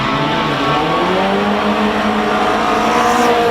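A 1980 Lotus 7 1.6 race car with a Toyota engine climbs a hillclimb course, its engine roaring steadily at high revs with a faint tire squeal, heard at moderate distance with no talk.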